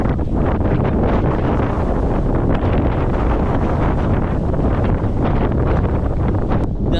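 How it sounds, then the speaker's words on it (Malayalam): Strong wind blows across the Parunthumpara hilltop near Peerumade, buffeting the microphone in a loud, continuous roaring rumble that never lets up, with no voices heard. "കാറ്റ് കുറച്ച് കൂടുതലാണ് കേട്ടോ ഇവിടെ"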